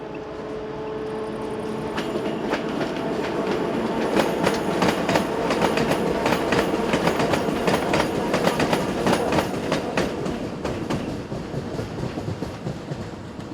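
Two Class 131 double electric locomotives arrive from the east hauling a heavy train, with loud, steady rolling wheel noise and rhythmic clickety-clack of wagons passing close by, no voices.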